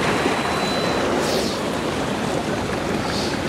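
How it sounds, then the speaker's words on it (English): Water ebbing and flowing between coastal rocks, a steady broad wash of surf that stays loud and even throughout with no voices. "Catch that water ebbing and flowing between these rocks."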